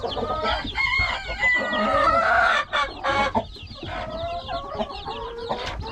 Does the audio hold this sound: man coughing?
no